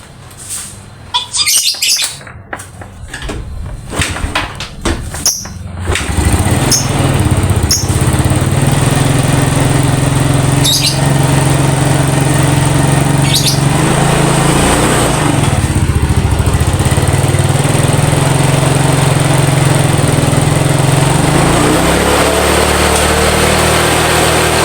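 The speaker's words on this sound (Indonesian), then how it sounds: "motor sudah hidup kembali ya, udah bisa hidup" Yamaha Mio scooter engine, just repaired after losing compression, starts up after a burst of clattering and then runs at a steady, loud idle close by, with birds chirping in the background.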